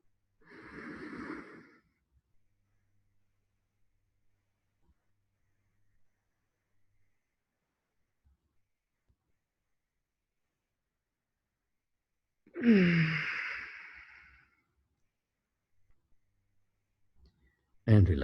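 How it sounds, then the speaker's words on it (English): Deep breaths during Tummo meditation come as two slow, isolated inhale-exhale rushes separated by long silence, with another breath starting at the very end. "Take a deep breath."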